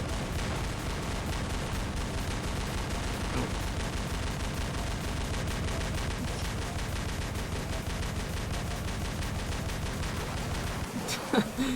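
Rapid, dense weapon fire from battling robots in the mech combat game War Robots, a continuous loud barrage of repeated shots and blasts with no pause, ending in a few sharper impacts.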